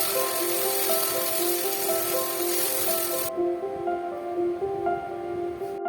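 Garlic and chili paste frying in a hot pan, a dense steady sizzle with bright crackle that drops away abruptly partway through, leaving a low bubbling hiss alone with no talk.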